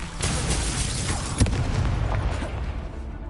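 An Incendio fire spell bursts in Hogwarts Legacy, a loud whooshing blast with a sharp crackling peak midway amid dense, sustained rumble.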